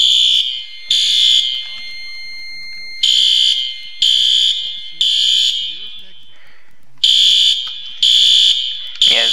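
Loud fire alarms blare inside a Roblox game in repeated shrill horn bursts, each about a second long, separated by short gaps. The whoops carry a harsh high pitch and stay steady, with no voices over them.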